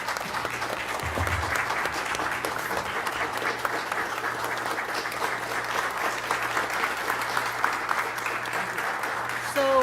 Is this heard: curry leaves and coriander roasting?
no